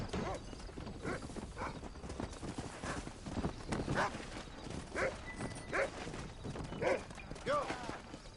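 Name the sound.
horse hooves in Red Dead Redemption video game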